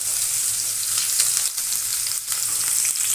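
Grated garlic and chopped chili fry in hot mustard oil, a steady bright sizzle with crackling pops, close and continuous, with a couple of brief dips as the pan is stirred.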